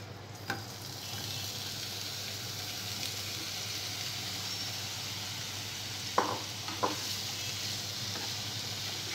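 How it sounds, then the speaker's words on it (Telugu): Paneer pieces coated in batter fry in hot ghee in a pan, giving a soft, steady sizzle with a few light clinks of a utensil. "నెయ్యి వేడిన తర్వాత ముందుగా కోటింగ్ చేసుకున్న పన్నీర్ ముక్కల్ని ఫ్రై చేసుకోవాలి."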